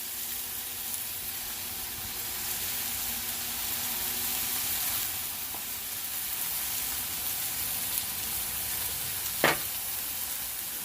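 Burger patties seasoned with kosher salt sizzle steadily on a hot cooking surface, a continuous bright frying hiss with one sharp click near the end and no talking.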